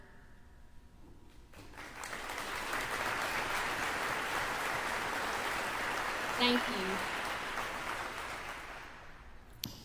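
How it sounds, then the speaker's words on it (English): An audience claps for committee members at a ribbon cutting for a school building in Oxford, dense applause rising after a quiet start, holding steady for several seconds and fading near the end, with a brief spoken thanks. "please stand and be applauded for your work"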